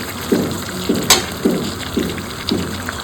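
A pan of chicken and potato curry in light gravy is stirred with a spoon, making a regular series of soft, wet scraping strokes about every half second over a low simmering bubble.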